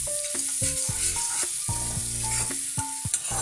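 Prawn heads fry in a pan and are stirred, with rhythmic metallic scrapes and clinks of a spoon on the pan over a steady hissing sizzle, close and continuous. No talking.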